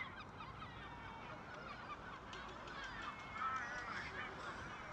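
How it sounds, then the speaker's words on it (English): Seagulls call over a coastal town in bad, windy weather, their faint cries rising over a constant rumble of wind and background noise. "Those seagulls."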